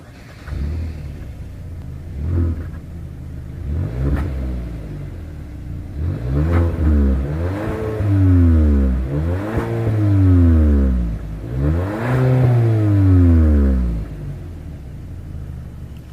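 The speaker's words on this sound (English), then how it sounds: "As always, here is that exhaust clip." A 2020 Hyundai Sonata exhaust revs repeatedly, rising in several loud throaty bursts that fall back to a rumbling idle between each blip.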